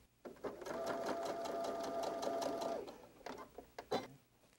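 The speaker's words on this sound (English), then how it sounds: "we'll top stitch those short ends 1/4 inch away from the edge of the fabric" A sewing machine top stitches the short ends of fabric pieces for a quilted train case, a steady whirring run of about two seconds with a constant hum, followed by a few short bursts and clicks as the stitching stops.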